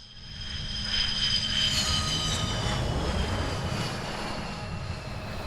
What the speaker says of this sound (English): Ooh, that's a nice jet.